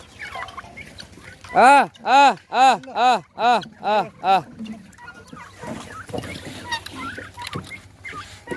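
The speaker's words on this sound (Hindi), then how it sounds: "ये देखो भैया, तैयार टर्की भी है" Turkeys on a free-range poultry farm, with a man's loud rhythmic drawn-out calls repeated about seven times, followed by busier, fainter gobbling and fowl noise under background talk.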